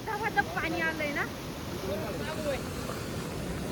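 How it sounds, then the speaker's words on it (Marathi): A flooded river rushes in a steady, loud roar with wind buffeting the microphone, while a person talks excitedly over the continuous torrent. "गाईस तुम्ही बघू शकता एवढं धबाधप पाणी आलंय ना."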